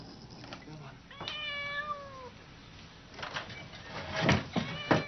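A cat meows several times, clear drawn-out tonal calls with one longer wail and a later cluster of shorter meows, moderately close with knocks and a voice talking in the background.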